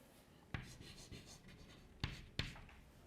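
Chalk tapping and scratching on a board in a physics lecture on relativistic momentum, a few sharp strokes with quiet gaps between them, at low level.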